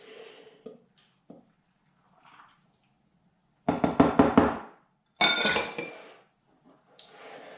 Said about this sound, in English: And then add the liquids.